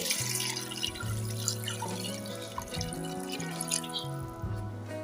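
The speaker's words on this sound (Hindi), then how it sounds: "अब इसमें हम डालते हैं 4 गिलास पानी के।" Water pours into a pressure cooker holding chicken karahi spices, a steady splashing, gurgling flow with shifting pitch as the pot fills, close and continuous for several seconds with no speech.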